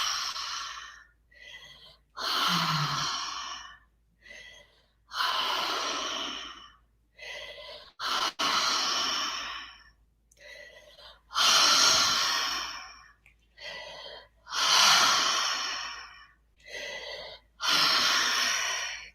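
Deep, full breaths in a guided breathing exercise, a steady series of loud, close inhales and exhales repeating in a slow rhythm, each breath a long rushing pulse separated by short pauses, with no talk.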